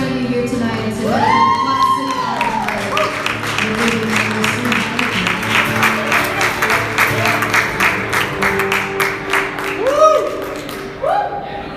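An audience at a benefit concert for veterans claps and cheers for a singer, a sustained burst of applause with whoops, while a voice rises over it near the start and again near the end.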